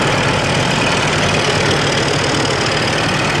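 Caterpillar C15 diesel engine running loud and steady with its cooling fan roaring, with the air compressor unhooked, a dense continuous drone close by.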